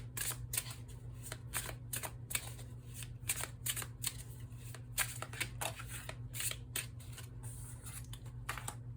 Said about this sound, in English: now I'm going to pull 3 cards, and these are going to be your 3 tarot cards